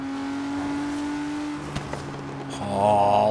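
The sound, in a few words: 2017 Ford GT engine revving, deep throaty gurgle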